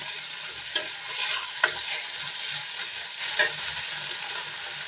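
Potatoes sizzle steadily in a hot pan with fried onions, with occasional scraping clicks of a utensil stirring them.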